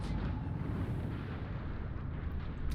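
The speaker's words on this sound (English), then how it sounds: "I've just launched my torpedoes" Torpedoes launching in a submarine video game, a dense, continuous rumbling blast that stays loud and even across the whole moment, with no talk.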